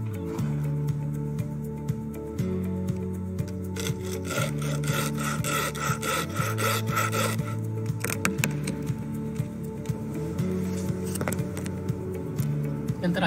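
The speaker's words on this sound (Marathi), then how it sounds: "we cut the plastinate." Hand-sawing a plastinate sheet, cut to cable size for a cable joint: steady back-and-forth rasping strokes in a regular rhythm, close and moderately loud, with no speech.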